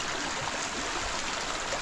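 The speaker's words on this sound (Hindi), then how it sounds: "कल ना इतनी तेज़ बारिश हुई, तो ये देखो ये गधेरा पूरा भर चुका है।" Swollen mountain stream rushing after heavy rain, a small gully now running full; a steady, dense roar of flowing water fills the short stretch without pause, close and fairly loud.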